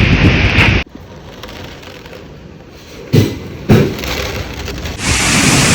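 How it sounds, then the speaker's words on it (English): Heavy rain and gusting wind of Hurricane Ida at the Orleans-Jefferson line in Louisiana, loud roaring downpour with buffeting wind noise on the microphone, dropping away abruptly then surging back in bursts. "tired of this storm"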